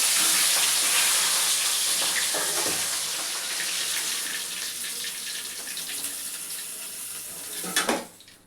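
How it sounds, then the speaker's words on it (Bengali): Catla fish heads frying in hot oil for a Bengali mung dal dish, giving a steady broadband sizzle and crackle that fades slightly over time, with a sharper spurt near the end. "তেল দিচ্ছি, মাছগুলো ভেজে নেব। মাছের মাথাগুলো, মাছের মাথাটা ভেজে নেব।"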